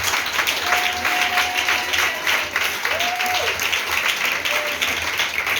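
A church congregation applauding during a Sunday worship service, steady dense clapping that fills the whole stretch at an even level, with a few faint sung or called-out tones drifting through.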